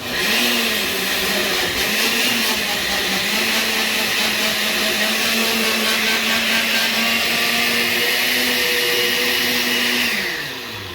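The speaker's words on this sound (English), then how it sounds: "We're going to go ahead and blend this really nice." A blender purees 28 ounces of tomatoes for birria broth: a loud, steady motor whir runs about ten seconds, then cuts off, close with no talking.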